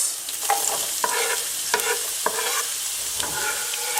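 Carrots added to a pot of chicken and lentil curry soup and stirred, with a steady sizzle and several scraping utensil strokes against the pot, close and alone with no talk.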